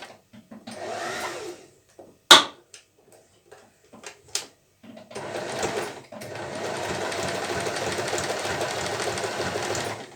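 A sewing machine runs zigzag stitches over an appliqué pattern on fabric, starting with short, halting bursts and a sharp click, then settling into a steady, close whirring hum for the last several seconds.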